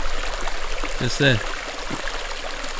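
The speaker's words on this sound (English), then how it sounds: "Made it to the waterfall." Waterfall at the end of a creek walk in the Victorian High Country, a steady broadband rush of falling water running throughout beneath a voice speaking briefly.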